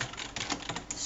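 Quick burst of keystrokes on a computer keyboard while typing PHP code, close and fairly clear, a handful of rapid clicks in uneven rhythm.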